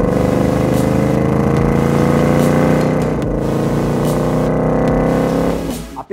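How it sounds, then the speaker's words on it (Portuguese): Loud, continuous 2023 Ford Mustang V8 engine roar with a deep rumbling tone, amplified by a sound-enhancing feature, holding steady for several seconds before dropping off abruptly at the end. "aquele recurso que amplifica o poderoso som do motor"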